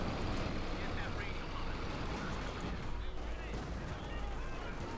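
Machine gun fire and artillery from a Company of Heroes 2 match, Wehrmacht versus US Forces, forming a dense, continuous battle din that stays loud throughout with bursts layered over a steady roar.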